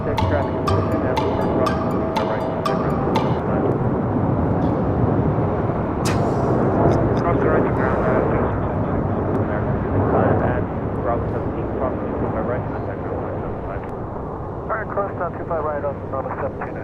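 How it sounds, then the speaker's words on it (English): A jet airliner taking off at LAX roars loudly and steadily throughout, its engine rumble broad and continuous, with a person talking over the noise. "I didn't want to interrupt the takeoff."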